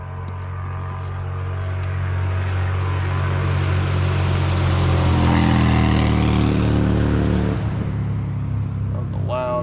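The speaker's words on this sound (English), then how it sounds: "That was a loud motorcycle." A loud motorcycle roars past, swelling to a peak midway then fading into the distance, with a steady low hum beneath.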